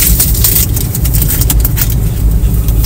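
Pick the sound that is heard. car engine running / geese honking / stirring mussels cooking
car engine running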